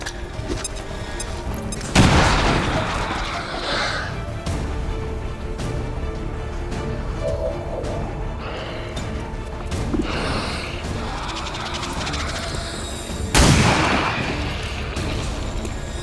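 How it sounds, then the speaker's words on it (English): A grenade explosion and gunfire in the XCOM video game: two heavy booming blasts, one early and one near the end, stand out over a continuous rumbling battle background. "Grenade out!"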